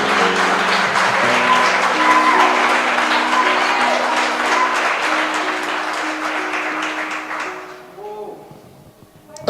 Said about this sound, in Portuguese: vamos dar uma aplaudida aí